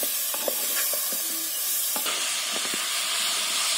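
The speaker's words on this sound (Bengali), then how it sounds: "এই নুন ও হলুদ দিয়ে আমি ফুলকপিটাকে একটু ভালো করে কষিয়ে নেব।" Cauliflower sautéed with salt and turmeric in a pan, a constant hissing sizzle with intermittent spatula scrapes and taps, close up, no speech.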